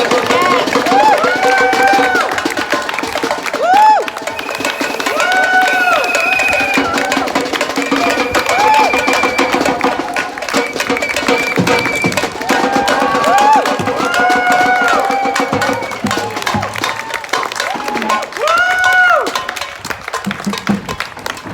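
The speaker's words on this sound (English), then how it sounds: "So, like, another big round of applause." Crowd at a political occupation inside a building cheers and applauds continuously, loud and dense throughout, with voices shouting and whooping over the clapping.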